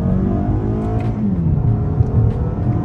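A 2023 Toyota Camry XSE accelerating hard off the line, its engine note climbing steadily through a gear before easing, heard loud and close from inside the cabin with no talking.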